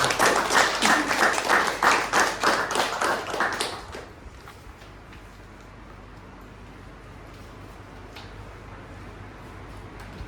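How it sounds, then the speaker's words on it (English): Audience applause at a speaking club meeting, a dense burst of many clapping hands for about four seconds that then fades into a quiet room. "Let's give them a big round of applause."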